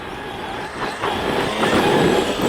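A Traxxas X-Maxx RC truck runs under throttle on gravel, giving a rough, broadband whirring crunch that swells louder over a couple of seconds.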